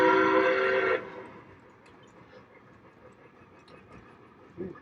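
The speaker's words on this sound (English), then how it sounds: "We got lots of neat trains running here today." Frontiersman model train set running on track, a loud horn-like whistle blast for the first second, then a quiet low rolling rumble of the trains continuing behind.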